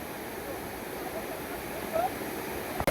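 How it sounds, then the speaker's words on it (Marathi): Savatkada waterfall near Rajapur, Ratnagiri, gives a steady, even rushing roar throughout, ending with a sudden close knock or handling thump. "पाहू शकता कसला अमेझिंग धबधबा आहे"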